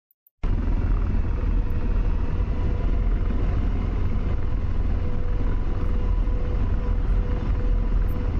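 An AH-64 Apache helicopter in DCS starts with a sudden dense rotor and turbine roar that holds steady and loud, low rumbling throb under a constant whine, with no talking.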